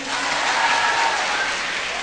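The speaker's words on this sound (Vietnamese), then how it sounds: "Vỗ tay đi." An audience at a Buddhist question-and-answer talk claps in a steady, dense wash of applause that stays even and moderately loud for the whole short stretch.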